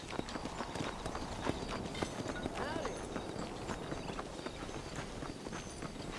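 Horse hooves clip-clop in the Western video game Red Dead Redemption, a steady walking rhythm under ambient game sound with a voice talking over it.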